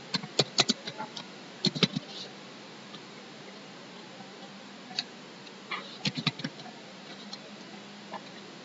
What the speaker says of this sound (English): I'll type my address.